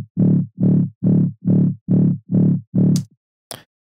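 Heavy metallic dubstep bass with subtle distortion, seven evenly spaced growling bass stabs in a steady rhythm, loud and dry, followed by two short bright noise bursts.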